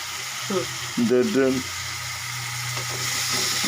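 New potatoes frying in a pan, a continuous close sizzle with brief stirring scrapes, under a voice speaking Bengali in short bursts.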